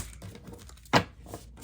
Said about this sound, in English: Sorry, I gotta shuffle these cards.